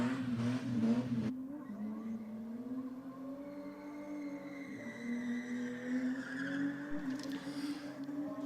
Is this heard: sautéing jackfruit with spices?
no